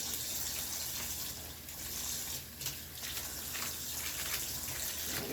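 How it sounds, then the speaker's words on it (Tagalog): Water runs from a kitchen tap to soak a round lettuce. The stream is a soft, continuous splashing gush with slight fluctuations, quiet and close. "Ibababad ko lang siya dito sa ano,"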